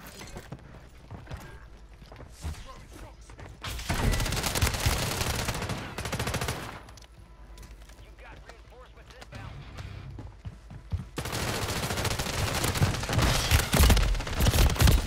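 Gunfire in a multiplayer shooting video game, with bursts of rapid automatic fire and dense fusillades in two loud stretches, separated by quieter gaps, with players' voices faintly underneath.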